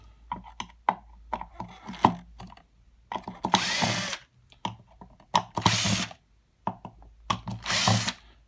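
An electric screwdriver backs screws out of the carousel of a Numatic Henry vacuum cleaner in short whirring bursts with ratcheting clicks, close by and separated by quiet gaps.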